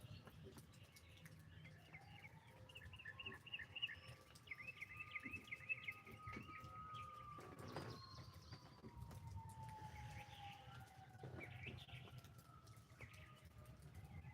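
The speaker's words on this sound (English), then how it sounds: "that's more than one siren" Several sirens wail far off in a rural setting, a faint rising-and-falling tone drifting slowly across the whole stretch, with birds chirping and cooing nearby over quiet outdoor background.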